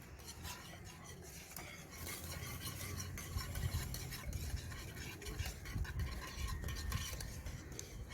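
A spoon scrapes and stirs cream cooking in a pot for a dessert, a steady, faint clatter of metal against metal over a soft bubbling sizzle.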